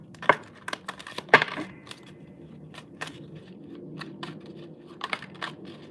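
Tarot cards are shuffled in a sharp, irregular series of riffles and taps, with quiet pauses between bursts and no voices.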